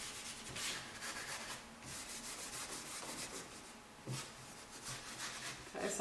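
Steel wool rubs dark wax over chalk-painted furniture in repeated close scrubbing strokes, a steady scratchy rhythm with brief pauses, and no talking.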